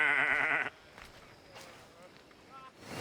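Goats bleat loudly in a short burst at the goat pens in the video game Assassin's Creed Odyssey, then fade into quiet game ambience with faint footsteps and a brief voice.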